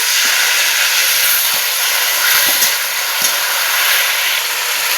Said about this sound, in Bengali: এখন অল্প একটু জল দিয়ে দেবো